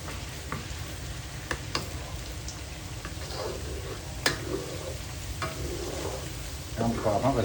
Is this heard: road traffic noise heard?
no